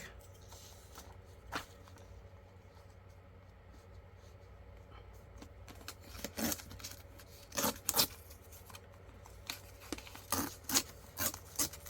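Scissors trimming a paper map of Africa for a vintage junk journal, a quiet room tone broken by scattered crisp snips and paper rustles that grow more frequent toward the end, close and with no talking.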